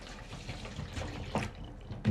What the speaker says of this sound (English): I'll add water,